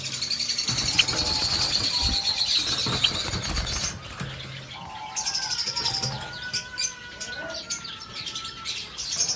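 Java sparrows in a breeding setup chirp and tweet in soft, repeated calls, several birds overlapping at close range over faint background noise.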